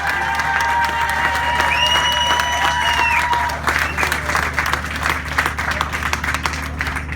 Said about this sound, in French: Applaudissez les gars.